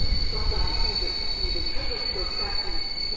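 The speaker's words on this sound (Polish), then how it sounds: "Zameldowało się Intercity Wybrzeże na torze drugim przy peronie szóstym" An Intercity Wybrzeże train pulls in along track two at a platform during station construction at Warszawa Zachodnia, a steady rumble of wheels and carriages with faint squealing, loud and continuous throughout.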